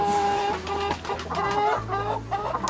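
Brahma chickens cluck and call inside a coop, several overlapping birds making steady, close clucking sounds with no talk.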